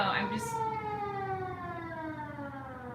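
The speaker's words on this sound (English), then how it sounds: "And now there's a siren." A long wailing siren sounds nearby and loud, its steady tones slowly gliding downward across the whole span with no voices over it.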